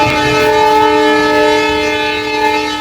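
A train at Chuadanga Railway Station in Bangladesh sounds a long, loud, steady horn as it passes close by, with no voices.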